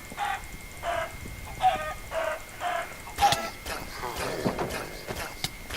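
Minecraft chickens cluck in short blocky bursts, several in a row at moderate volume, mixed with game footsteps and clicks while someone talks in French.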